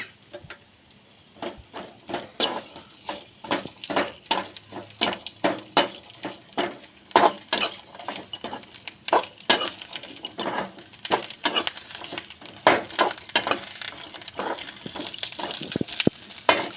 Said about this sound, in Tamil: தனியாக எண்ணெயில் போட்டு வறுத்துக்கலாமேன்னு தான் தனியாக வறுக்கிறேன்